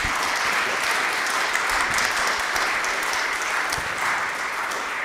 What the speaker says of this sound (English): All right, now let's applaud.